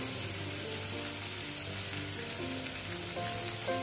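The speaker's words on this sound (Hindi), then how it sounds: "हम इस सब्जी को 1 मिनट भूनेंगे, और बिल्कुल धीमी आंच पे हम इसे भूनेंगे।" Spiny gourd sabzi with coriander, red chilli powder and salt frying over a low flame, a steady soft sizzle with faint stirring touches throughout, no talking.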